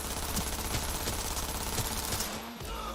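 Rapid automatic gunfire from Cyberpunk 2077 rattles loud and dense for nearly three seconds, then breaks off briefly near the end before a low rumble resumes.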